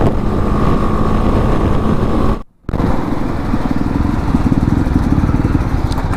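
A motorcycle ridden on a road in cloudy weather gives a loud, continuous engine drone mixed with wind rush, briefly cutting out for a moment before resuming, with no voices.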